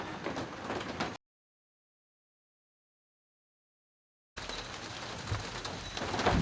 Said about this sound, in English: But of course, it rained again. Even harder.